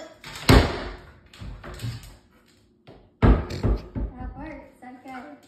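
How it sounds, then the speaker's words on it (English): A trained dog pushes a door shut, giving a couple of sharp thumps and knocks, with a person talking and praising around the sounds. "She will close the door."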